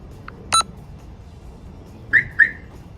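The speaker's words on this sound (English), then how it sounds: "the module that locks the alarm, puts the alarm on, locks the doors, disarms it." A Ford truck's alarm gives a short beep, then after a pause two quick electronic chirps, clear against a quiet background.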